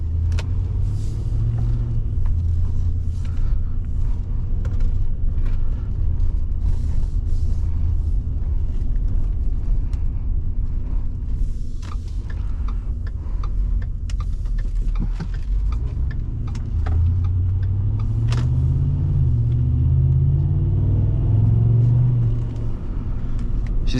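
2010 Ford F-150 Harley-Davidson Edition with a 5.4 liter engine driving on the road, with a steady low engine rumble from inside the cab that rises in pitch as the truck accelerates near the end.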